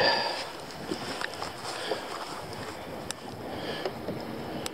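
Wind buffets a small boat out on open water during winter crappie fishing, a steady rushing hiss with microphone gusts and a few faint knocks against the hull, and no talking.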